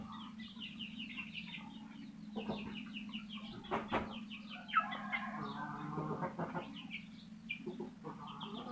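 A Burmese fighting rooster clucks in soft, repeated bursts at close range, fairly quiet over a steady low background hum, with no talking.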